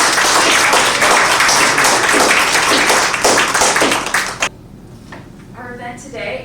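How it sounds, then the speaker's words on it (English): An audience at a university reading applauds loudly and densely for about four seconds, then the clapping stops abruptly and a voice begins speaking. "please can we give a round of applause to John and Julie"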